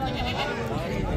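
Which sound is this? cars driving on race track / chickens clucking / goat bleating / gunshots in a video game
goat bleating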